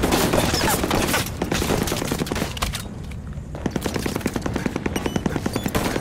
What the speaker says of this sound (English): Who knew a skinny palm tree could deflect machine gun bullets?